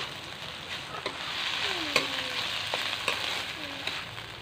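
Pancit guisado with seafood sautéing in a pan: a steady, moderately loud sizzle with a few sharp utensil scrapes and taps at intervals.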